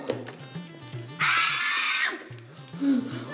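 A loud, shrill scream bursts out for about a second, cutting across a rhythmic low droning sound that continues before and after.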